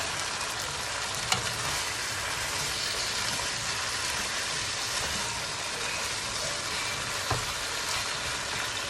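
Vegetables cook in a pan with fish nearby, a dense, steady sizzle and frying hiss filling the whole stretch at moderate loudness with no talk.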